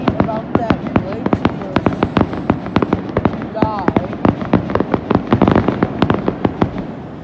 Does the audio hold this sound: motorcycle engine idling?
no